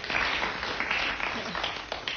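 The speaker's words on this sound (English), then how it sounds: "Oh, rousing applause there." Audience applause and clapping from a crowd at a live talk show taping, a dense steady patter lasting about two seconds with some voices mixed in.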